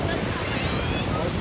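Large ocean waves surge at Nha Trang beach, a dense, steady roar of surf mixed with wind buffeting the microphone, continuous and loud throughout with no break.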